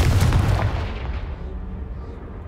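Confringo blasting spell explosion in the Hogwarts Legacy video game on PS5: one loud, deep boom at the start that rolls off and fades over two seconds, heard alone.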